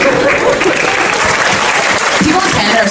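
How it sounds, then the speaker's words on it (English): An audience at a Montreal Comic Con 2012 panel breaks into loud, dense applause that fills the whole stretch without pause. "They clap after everybody's questions."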